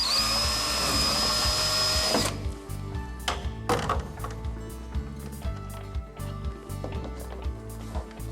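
A power drill bores a hole for a rivet to fix an air chute to a sidewall, a loud high whir for about two seconds, then stops, followed by scattered knocks and handling clatter.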